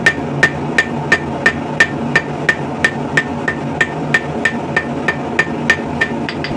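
Hammer blows on hot steel flattening a tapered corner for a scrap-steel rivet header tool, a fast even series of sharp ringing strikes close up, about three per second, with no talk.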